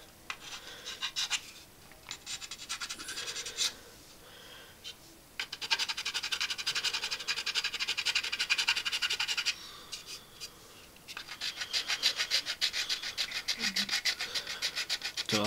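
Plastic parts of an Airfix 1/72 Dornier Do17z model kit being filed, giving repeated close, raspy scraping strokes in bursts with short pauses between them.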